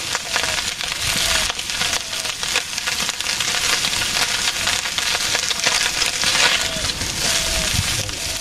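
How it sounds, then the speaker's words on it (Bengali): Fish frying in a pan in a Bangladeshi village kitchen, a steady dense sizzle and crackle running unbroken with faint scraping stirs. "আস্তে আস্তে মাছ ভাজি হয়ে গেছে।"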